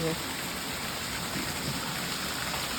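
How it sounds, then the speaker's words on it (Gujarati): Heavy monsoon rain pours down steadily in Gujarat, an even, continuous hiss of falling water heard from close by. "અડધી કલાકથી સતત ચાલુ છે વરસાદ"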